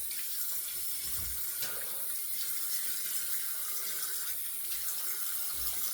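Tap water runs into a sink as a razor is rinsed, a soft continuous trickle and splash heard close but fairly quiet, with faint low bumps underneath and no voices.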